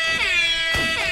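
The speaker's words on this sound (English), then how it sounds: "having airhorn sounds in your video" An airhorn sound effect blares over Smite gameplay, a loud, stacked brassy blast that swells, dips briefly, then surges again across about a second, with no talking.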